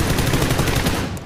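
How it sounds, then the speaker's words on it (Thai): Loud automatic gunfire in PUBG, a fast, even burst of close shots rattling continuously before tapering off at the end. "เออมันยิงฟ้าไม่โดนเลยวะ"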